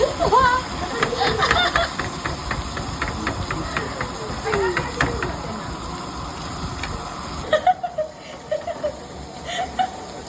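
Steak sizzling in a hot pan with garlic added, a steady hiss of frying through most of the stretch that thins out near the end, with voices talking over it.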